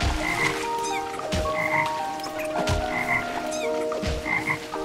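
Frogs in the video game Toki Tori 2+ croak in a steady repeating pattern over soft game music, with short chirping calls recurring every second or so.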